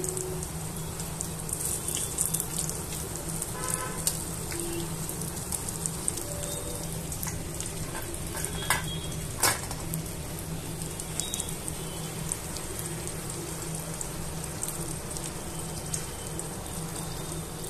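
Chilli bajji fry in hot oil, a dense, continuous bubbling hiss like steady rain that stays even and fairly loud throughout, with a few faint clicks and no talking.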